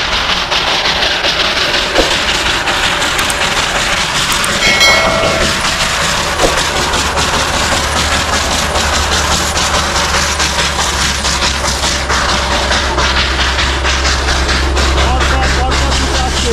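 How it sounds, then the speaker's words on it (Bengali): Two Darjeeling toy trains passing in succession, one steam-hauled and one diesel, with loud continuous rail clatter and engine rumble nearby, a brief horn-like tone midway and people talking underneath. "পরপর দুটো আসছে, একটা স্টিম ইঞ্জিন, একটা ডিজেল ইঞ্জিন।"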